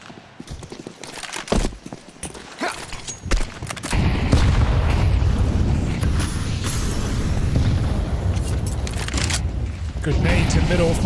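A grenade detonates in Counter-Strike on the Ancient map during a professional match, a heavy boom followed by a sustained rumbling roar, with a commentator's voice over the game audio.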